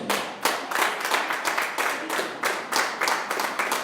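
A church congregation clapping together in a steady, fairly quick rhythm, many hands striking in near unison with regular loud accents, close and filling the room with no talk over it.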